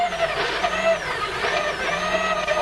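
Peugeot rally car on a WRC stage in 2000, its engine droning loudly and continuously with rising and falling pitch, accompanied by rough whining tones.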